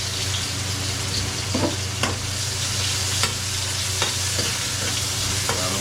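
Onion and garlic sauté for bopis with a strong, steady sizzle and an even hiss, as a utensil scrapes the pan now and then. Heard close and loud over a low hum, with no talking.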